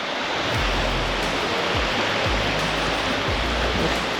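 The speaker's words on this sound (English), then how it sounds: "The water is lapping on its little tin, whatever it is, hull." Water laps against the small tin hull of a boat resting on rocks before floating: a continuous close wash with soft, low thumps of ripples hitting the metal at irregular intervals.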